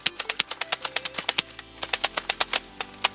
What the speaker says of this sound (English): I'm actually shooting it too fast for the mechanism to be able to fire.